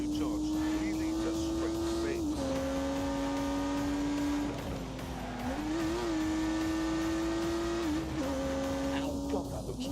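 A turbocharged 3-litre straight six with 365 horsepower revs hard in a driving video game, a loud sustained engine drone that rises and dips with gear changes, with a voice talking over it.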